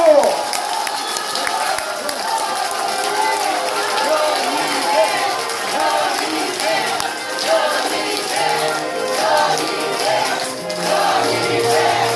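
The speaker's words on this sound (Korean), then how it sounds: "박수 보내주십시오" A crowd at a book concert claps and cheers to welcome a speaker to the stage. A continuous roar of applause runs throughout, with voices and whoops rising over it and music underneath.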